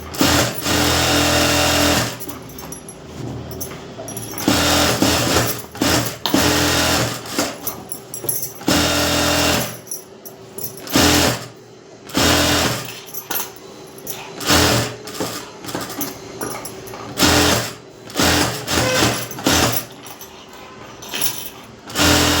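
A sewing machine stitches a blouse lining in loud, steady whirring runs, broken by brief stops and restarts.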